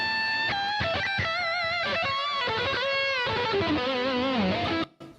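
Electric guitar preset through a Boss GT-1 multi-effects unit: a sustained, singing distorted lead with bends and held notes, loud and close, cutting off abruptly at the end.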